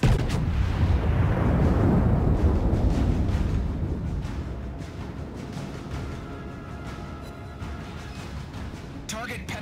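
Heavy naval guns of the battleship North Carolina fire in World of Warships, a loud deep rumbling boom that rolls and slowly decays over several seconds, with in-game voice callouts over the top.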